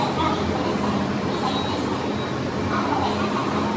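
Steady, dense rumble and hiss inside a moving Bangkok MRT metro train, continuous, with no pauses and a faint whine now and then.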